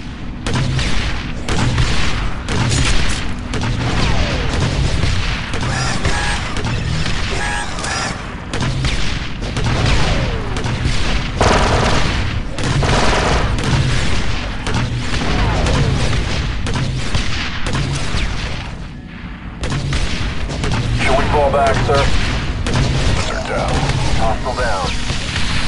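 A dense, continuous barrage of turret fire and booming explosions hammering a dropship in the Star Wars Republic Commando video game, loud and close, with battle noise dipping briefly before resuming.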